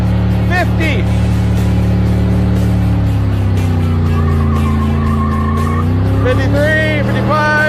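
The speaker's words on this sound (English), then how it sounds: "I wager it sounds better than it ever has." Beater car revving hard during a burnout, engine roaring loud and continuous, pitch sweeping up and down as the throttle is worked, with tire squeal and close, unbroken noise.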